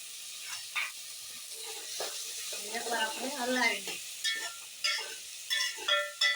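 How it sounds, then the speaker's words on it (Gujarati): A soft frying sizzle runs throughout, broken by repeated scrapes and clunks of a spoon stirring potatoes and onions in a pan for spiced fried rice. "અને હલાવે રાખવાનું જ્યાં સુધી બટાટા બધું મિક્સ ન થઈ જાય ત્યાં સુધી હલાવવાનું"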